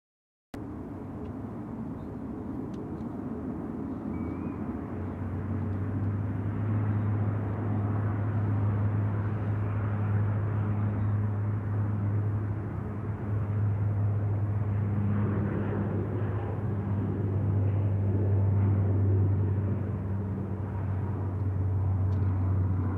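An airliner takes off from Sydney Airport runway 34 left, a loud, steady engine roar that builds and stays broad and rumbling throughout, with no one talking.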